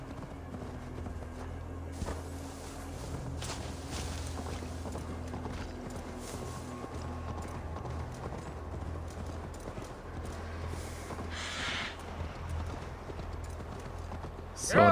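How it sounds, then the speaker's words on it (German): Steady clip-clop of horse hooves as a rider travels along in the video game Assassin's Creed Valhalla, a continuous even trot over a soft ambient game backdrop. "So, dann reiten wir hier mal entlang."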